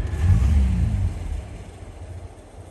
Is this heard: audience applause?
no